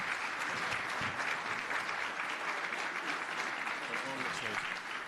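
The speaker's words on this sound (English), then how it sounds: "One great big round of applause for all of Henrico's legacy businesses." An audience at a county address applauds legacy businesses, a fairly soft, steady patter of many hands with some murmured voices underneath throughout.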